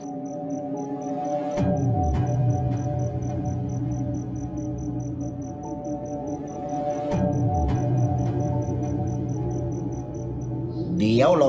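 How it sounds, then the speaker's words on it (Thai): Crickets chirp steadily through a still, eerie night at a rural Thai house, a constant close insect trill with occasional soft thumps and rustles. "ได้ยินเสียงจิ้งหรีดและลมหายใจตัวเองเท่านั้น"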